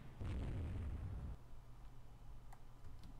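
A deep rumbling blast from a torpedo striking a ship in Rule the Waves II, a heavy boom fading into a low continuous roar with faint scattered pops afterward.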